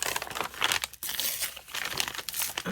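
Grid paper being torn by hand for a rustic craft project, a dense crinkling rip running almost continuously for nearly three seconds, close and fairly loud with brief pauses.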